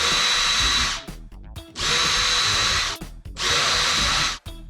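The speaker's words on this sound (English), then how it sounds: "start drilling those as well, making sure not to drill all the way through the door." A power drill whines loudly through three bursts of about a second each, separated by brief pauses, pre-drilling holes into a wooden camper door.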